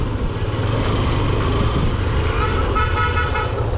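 A vehicle horn sounds on a road in Chittagong, Bangladesh, its tooting tones standing over a steady bed of nearby traffic and engine noise, with some voices mixed in.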